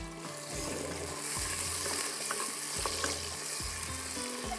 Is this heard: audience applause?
no